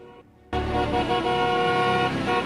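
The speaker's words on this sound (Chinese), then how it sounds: "喇叭声一直响" Car horn blaring without letup at a highway traffic accident scene, a loud steady blast that cuts in abruptly after a brief quiet moment and holds under low road rumble.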